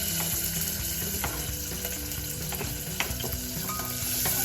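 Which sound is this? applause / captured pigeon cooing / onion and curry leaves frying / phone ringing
onion and curry leaves frying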